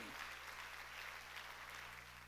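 Church congregation applauding during a sermon, a dense, steady wash of many hands clapping at once with no gaps, sustained at an even level throughout.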